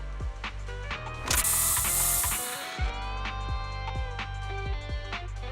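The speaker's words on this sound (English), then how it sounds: "Here, have a taste of this special bamboo spray." A special bamboo spray in the Zenless Zone Zero video game, a loud bright hiss lasting just over a second amid a run of rhythmic mechanical ratcheting clicks and clanks that continue after it.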